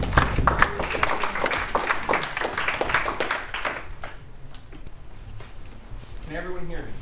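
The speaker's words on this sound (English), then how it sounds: "give him a nice round of applause" Audience clapping for a speaker at a talk, a dense burst of applause that fades out over a few seconds, followed by a voice beginning to speak.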